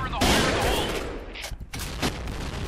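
AK-47 rifle fire in the shooter game Point Blank, a dense rattle of rapid shots with a brief gap near the end before firing resumes, loud and close.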